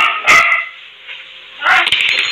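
A pet dog barks in two short bursts near the start and end of the clip, fairly loud and close, with a quieter gap between.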